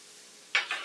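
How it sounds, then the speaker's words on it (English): Vegetables hit a hot pan in a chicken pot pie preparation, a sudden short burst of hissing sizzle and steam that rises and then settles, after near silence. "Miss Perry, I love that sizzle. The sizzle is the best, is it not?"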